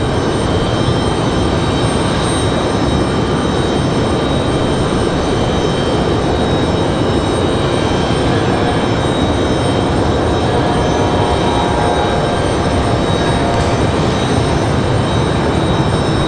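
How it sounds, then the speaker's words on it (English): A Delta Connection CRJ regional jet departs from Raleigh-Durham airport, producing a loud sustained jet roar with a whining engine tone that runs unbroken for about sixteen seconds, with no voices. "And we got the CRJ departure."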